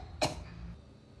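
A single short cough, close and fairly loud, followed by a quiet room hum.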